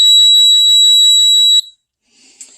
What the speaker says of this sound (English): now I turn this on, you're going to hear a beep for about 6 seconds